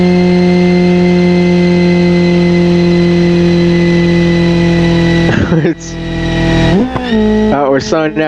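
A car engine in a game called Heartsofchief on Italy holds a steady loud drone, then dips and surges twice as the pitch drops and climbs again with gear shifts while pulling up a steep hill.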